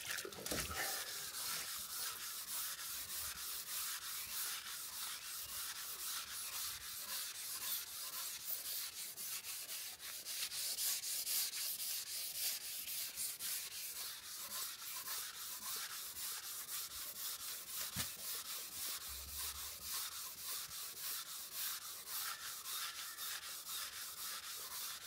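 Steady rhythmic rubbing by hand while sanding and polishing silver, a soft continuous scratchy friction with regular strokes, close and fairly quiet, with no voices.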